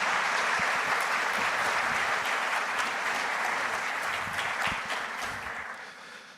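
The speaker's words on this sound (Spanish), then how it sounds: "por favor, un fortísimo aplauso para Nicolás y Gregorio" An audience at an architecture event gives a strong round of applause, a thick, continuous clatter of many hands that slowly fades toward the end.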